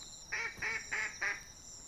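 Four evenly spaced nasal honking calls from a duck by a lake in the Dolomites, moderately faint over a steady background hum, with no talking.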